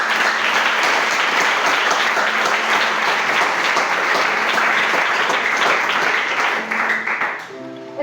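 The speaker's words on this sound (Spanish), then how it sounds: "Bríndele un fuerte aplauso." A church congregation gives loud, sustained applause for several seconds, dense clapping that fades near the end as a few faint tones emerge.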